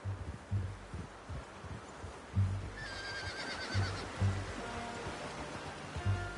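A horse in Red Dead Redemption 2 whinnies once in a rising, shrill call amid quiet thumping rhythmic sounds in the background.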